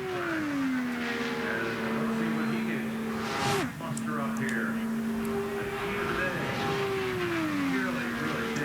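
E.J. Viso's IndyCar roars around Indianapolis during 2012 Indianapolis 500 pole day qualifying. The steady high engine whine drops and rises as the car takes a corner and accelerates, under continuous commentary.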